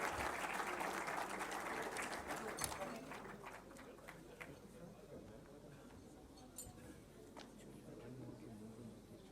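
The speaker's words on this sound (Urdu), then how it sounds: "ان کے لیے بھی بھرپور تالیاں ہونی چاہیے" Applause at a stage event honouring veteran artists, a broad wash of many hands clapping that is strongest at first and gradually thins and fades, heard faintly with talk over it.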